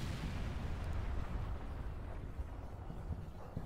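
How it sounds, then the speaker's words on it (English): Artillery barrage in the real-time strategy game World in Conflict, heard as a continuous dense rumble of distant explosions and booms rolling together with no clear gaps between blasts. "Heavy artillery barrage."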